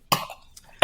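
A single sharp cough bursts out at close range, followed by a quiet lull with faint mouth noises before a second loud cough cuts in at the end, in the middle of a casual gaming podcast chat.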